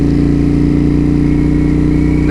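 A 2007 Kawasaki Vulcan Mean Streak motorcycle engine rumbles loud and close on a cold day, holding a steady, throbbing idle throughout with no voices.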